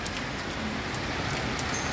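Steady rain falls across the Brazilian sertão, a dense, even hiss of drops on surfaces that holds without pause, fairly close and with no voices over it.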